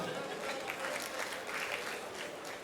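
An audience at a live comedy show claps in a steady, dense patter of many hands, sustained evenly throughout, moderately loud with no voices standing out.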